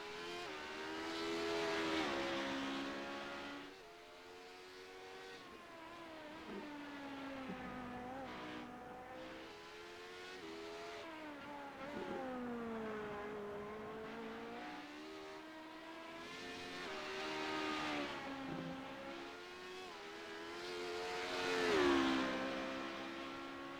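LMP2 prototypes and other race cars in a 45-minute endurance race at Virginia, engines whining and revving through gear changes, passing and swelling louder then receding over a faint continuous track drone, with no voices.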